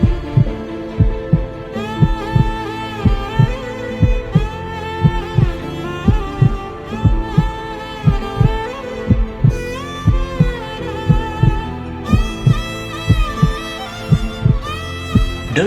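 A heartbeat sound effect thumps in regular double beats, loud and up front, layered over dramatic music with sustained tones throughout.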